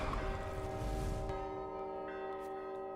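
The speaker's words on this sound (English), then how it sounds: "you rang the bell" A deep, resonant bell from the Gris video game rings once and its sustained tone slowly fades, alone and fairly soft.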